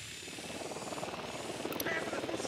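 A Unidad helicopter approaching in Ghost Recon Wildlands, a steady whirring rotor drone with a chopping pulse that grows slightly louder, heard alone.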